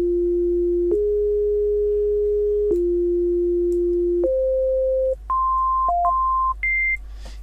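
A pure sine-wave synth oscillator in a software synthesizer plays a simple tune of held single tones, stepping upward over several notes with brief gaps, clean and steady over a low constant hum, with no talking.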